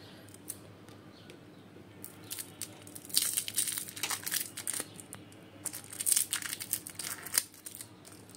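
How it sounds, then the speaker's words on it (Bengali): Snipping and crinkling as an amplifier power cord is cut open by hand, a run of close, irregular crunchy cuts and rustles that grow busier midway, with no voices. "বন্ধুরা, আমি এখন এই কর্ডটা আপনাদের কেটে দেখাবো"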